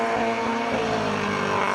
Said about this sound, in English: Oh, the car sounds like it's hurt.